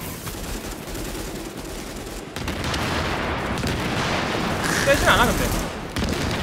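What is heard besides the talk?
bomb explosions in The Division video game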